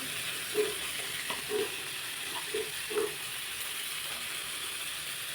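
Spices stir in a frying pan while bitter gourd cooks, a soft continuous sizzle with a few low scraping strokes of the spatula spaced about a second apart, quiet and close with no talking.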